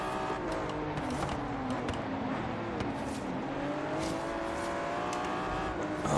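Aston Martin V12 Zagato racing in Forza Horizon 3, its V12 engine howling and rising through gears with repeated shifts, a sustained close engine note rising and dipping against a faint background hum, no speech.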